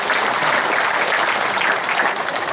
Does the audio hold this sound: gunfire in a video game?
no